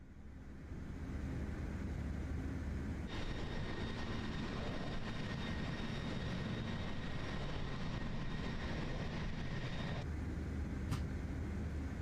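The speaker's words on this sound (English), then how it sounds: "All right, landing gear's coming down. And we'll go full flaps." A CRJ900 regional jet in a flight simulator with landing gear extending and full flaps set: a steady broad airflow rumble with a faint whine layered on top, continuous and even, no voices.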